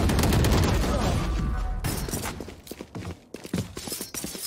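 Gunshots in the tactical shooter Valorant, an opening flurry of dense fire that thins into scattered sharp single cracks and bursts, with game effects mixed in.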